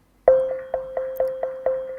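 A single plucked synth note rings out, followed by a series of evenly spaced delay echoes that gradually fade in volume.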